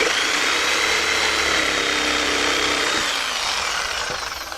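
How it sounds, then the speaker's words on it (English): A jigsaw cuts through wood while a roof is being framed. It makes a loud, continuous, close buzzing rasp that eases slightly toward the end of the cut. "Now it's nice to have a jigsaw, so now you can cut the rest of that out."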